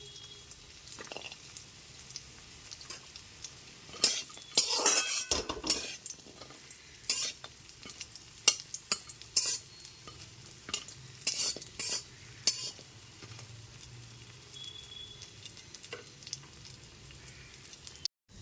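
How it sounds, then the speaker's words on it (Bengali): Ten lentil bori fry in hot oil over a medium gas flame. A soft sizzle sits under repeated scraping and clinking as a utensil stirs them in the pan, with bursts of louder stirring. "এবার গ্যাসের ফ্লেমটা মিডিয়ামে রেখে বড়িটা একটু লাল করে ভেজে নেবো"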